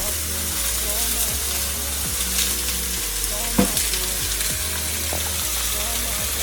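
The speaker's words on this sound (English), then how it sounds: "So I'm gonna add the veg into this pan and let that cook." Vegetables for a chicken stir fry noodle dish fry in a hot pan, a constant loud sizzle broken by clinks and scrapes of stirring, with a brief sharper clatter midway.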